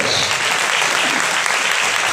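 A church congregation claps together to praise the Lord, a dense and steady burst of many hands filling the room for a couple of seconds.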